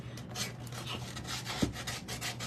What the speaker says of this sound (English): And I just have my little gator sander that I'm sanding